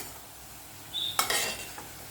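Plantain kola balls frying in oil in a pan give a low, steady sizzle, then a short louder burst of bubbling and clatter as they are turned, fading back to a gentle hiss.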